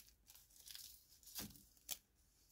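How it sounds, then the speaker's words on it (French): Adhesive tape torn off a roll of Christmas decoration material, giving two short, sharp ripping bursts near the mic against a quiet background, plus some faint crinkling beforehand. "Ah, il y a du scotch."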